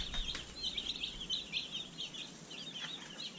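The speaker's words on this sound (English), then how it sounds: "we have 51 chicks. These chicks are from Freedom Ranger Hatchery." Dozens of Freedom Ranger meat broiler baby chicks peeping, a dense chorus of high, bright chirps overlapping continuously, fairly close and steady.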